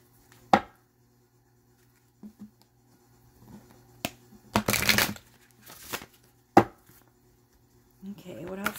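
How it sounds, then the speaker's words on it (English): Zodiac sign cards are shuffled and pulled from the deck, giving a few sharp snaps and slaps and one longer riffling burst, close and quiet, with gaps of near silence between them. "Let's pull some zodiac card signs and see what comes up"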